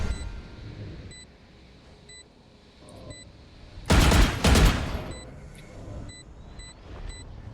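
Gunfire in the Valorant video game comes as two loud, close bursts of rapid shots about half a second apart. Quiet game beeps tick in the background before and after.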